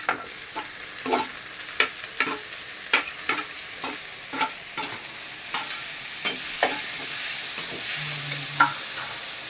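Onions, green chilies, curry leaves and tomato sautéing in a pan, with a soft background sizzle and a series of sharp scrapes and taps from a spatula stirring at an uneven pace.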